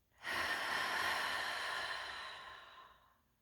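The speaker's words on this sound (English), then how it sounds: "And breathe out." A single slow, deep exhale during a guided breathing exercise: an airy, breathy rush that starts abruptly, holds for about two seconds, then fades out softly, close and quiet with no voice over it.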